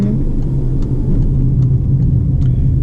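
A car engine runs steadily as the driver slows and downshifts from fourth to third gear while approaching a town, a loud continuous low rumble with slight shifts in pitch.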